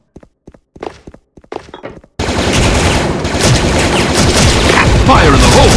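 Game gunfire from a Prime FN FAL high-damage rifle in Bull Soldier Front: a few sparse, sharp shots at first, then a brief pause, then a dense, loud, continuous burst of rapid fire with overlapping impacts.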